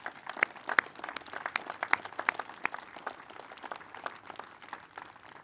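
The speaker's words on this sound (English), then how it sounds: "So give everyone a round of applause" Scattered, fairly light clapping from a gathered crowd at a headquarters grand opening in Spanish Fork, individual claps standing out in an uneven rhythm, heard at a moderate distance with no speech.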